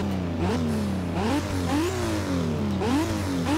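A Toyota Supra in Forza Motorsport 6 revs hard in repeated rising sweeps, each climb dropping back before surging again, loud and close with no talk.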